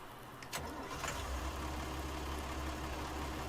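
A used tractor in Farming Simulator 19, low on diesel and in need of repair, idles with a steady low engine rumble that holds evenly throughout after a brief click near the start.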